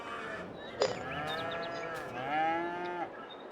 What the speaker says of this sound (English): Cows again.